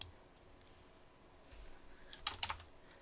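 Typing on a computer keyboard during astrophotography software processing, a short quiet burst of a few clicky keystrokes near the end against faint room hum.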